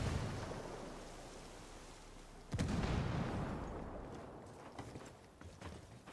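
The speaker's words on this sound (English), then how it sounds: "Yeah, that's a grenade." A grenade blows up in a first-person shooter game, a sudden deep boom partway through that rolls off into rumbling debris, with more distant muffled blasts and gunfire around it.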